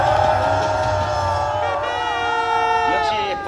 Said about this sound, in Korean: 멋진 예술의 시인의 김학선 교수님께도 뜨거운 함성을 보내시기 바랍니다